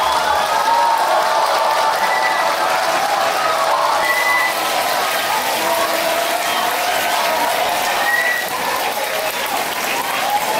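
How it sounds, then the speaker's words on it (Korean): A lecture audience in Korea gives loud, sustained applause with some cheering to welcome author Park Soon-hyuk, a dense continuous roar of clapping close to the room microphone. "여러분들께서 뜨거운 박수 함성으로 우리 박순혁 작가님을 맞이해 주시면 감사드리겠습니다."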